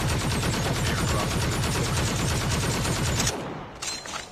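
Rapid automatic fire from a Mythic AK-47 in Call of Duty Mobile, a loud, dense stream of shots lasting about three seconds and then cutting off, with a few faint game sounds after it.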